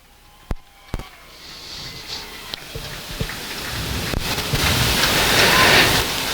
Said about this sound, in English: As the thunder rumbles from the sky at the Lakeside Speedway, Sammy about to climb out of the big game tr